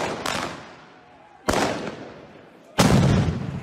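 Fireworks from a news clip about a rowdy New Year's celebration go off in three loud, sharp bangs spaced about 1.3 seconds apart. Each bang rings out with a decaying rumble and crackle, and there is no talk over them.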